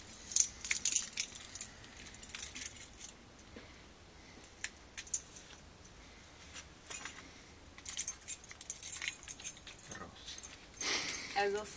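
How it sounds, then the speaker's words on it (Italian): Car keys jangle up close in small bursts of light metallic clinks that come and go over about twelve seconds, with people talking quietly in between and a louder rattle near the end. "Queste sono le chiavi della macchina"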